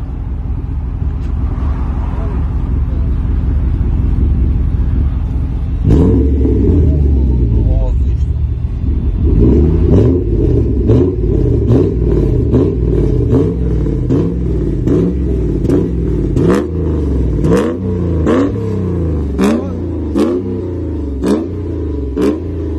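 A Mercedes 124 E500 V8 idles with a deep rumble, then gets blipped repeatedly, giving a series of sharp revs that rise and fall in quick succession, loud and close, with people talking over it.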